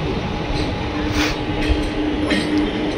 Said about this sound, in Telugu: నిదానంగా ప్లాట్ఫామ్లోకి అయితే తీసుకెళ్తున్నాడు